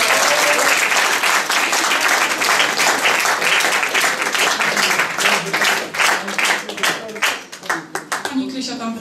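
A jazz club concert crowd claps loudly and densely for a regular guest, the applause thinning toward the end into scattered individual claps, with voices faintly audible underneath.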